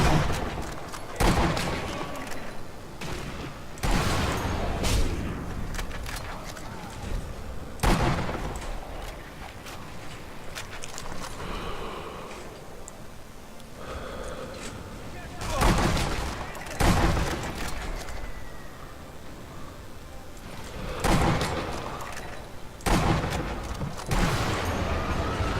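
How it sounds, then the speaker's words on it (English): Springfield sniper rifle fire in a first-person shooter game, sharp loud shots spaced several seconds apart over a backdrop of distant battlefield gunfire, with someone talking between the shots. "the Springfield sniper rifle that I'm using right now"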